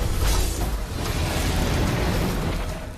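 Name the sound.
large explosion in Perfect World donghua animation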